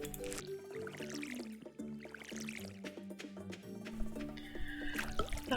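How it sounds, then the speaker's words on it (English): Crops being watered in the farming game Stardew Valley: a run of wet, squishy splashes and drips, repeated several times over light game music, with no talking. "Time to harvest and water."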